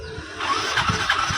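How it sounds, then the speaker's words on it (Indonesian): A fuel-injected motorcycle that will not start grinds on its electric starter, cranking in quick rhythmic pulses without catching, close and fairly loud. "Ini motor di starter tidak mau hidup."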